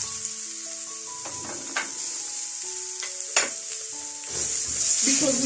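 Chopped white onions hit a hot pan used for garlic butter steak, sizzling over a soft musical background, with a few clatters and a louder hiss swelling at the end.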